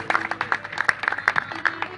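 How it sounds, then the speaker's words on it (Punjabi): A gathered crowd at a religious memorial event in a Punjabi village claps in honour of their parents, a brief burst of scattered, fairly close hand claps that continues unevenly for about two seconds. "ਆਪਣੇ ਆਪਣੇ ਮੰਮੀ ਡੈਡੀ ਦੇ ਨਾਮ 'ਤੇ ਤਾੜੀਆਂ ਲਾਓ ਯਾਰ।"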